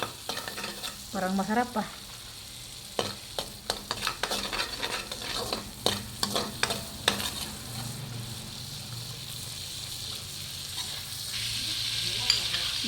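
Onion and garlic saute in a hot pan, a steady sizzle mixed with repeated scraping stirs, with a brief comment spoken partway through.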